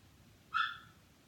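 A mother dog with newborn puppies kept behind an enclosure gives a single short, faint whine or yip, brief and alone against quiet room hiss.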